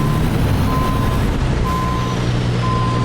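A truck in American Truck Simulator coupling to a double trailer, its reversing alarm beeping at a steady regular pace over a loud idling engine rumble.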